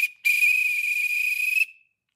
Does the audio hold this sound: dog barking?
no